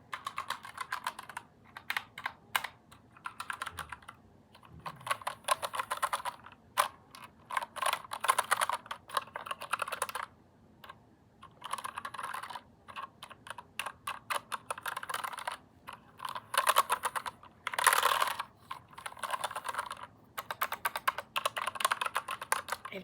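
Typing on a computer keyboard, a steady run of close, crisp key clicks in irregular bursts with brief pauses, alone and without talk.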